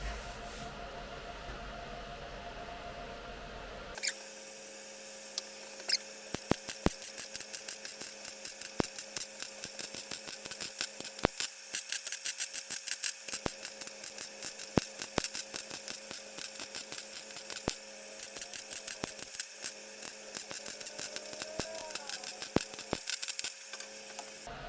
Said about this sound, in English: So I'll just weld across the top seam.